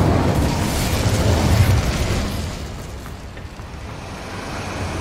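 An Incendio fire spell cast in Hogwarts Legacy erupts as a loud, roaring burst that swells for a couple of seconds, then settles into a fading, rumbling crackle.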